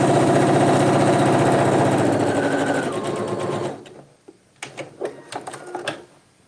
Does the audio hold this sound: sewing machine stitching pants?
yes